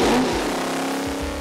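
A 351 Clevor small-block V8 on a dyno revs hard, its loud engine tone sustained and then easing slightly, close and alone without talk.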